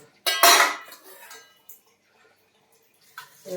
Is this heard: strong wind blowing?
no